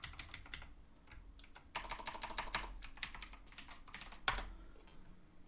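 Typing on a computer keyboard, a steady run of quiet, close keystrokes in irregular bursts, with one louder key press near the end.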